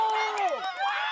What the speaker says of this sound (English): The cheering.